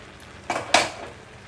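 A lid goes onto a cooking pot of carrot and beetroot: two sharp metallic clanks in quick succession, close and fairly loud, in an otherwise quiet kitchen.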